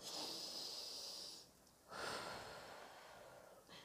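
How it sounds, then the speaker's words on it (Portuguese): Slow, deep diaphragmatic breathing close to the microphone, a faint airy inhale and exhale separated by a brief pause, soft and unhurried with no talking. "Pratique essa respiração, respiração profunda."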